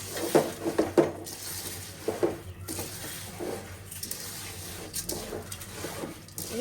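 A spoon scrapes and knocks against a pot while khichuri is stirred on the stove, producing a few irregular metallic clinks and soft scraping over quiet kitchen background.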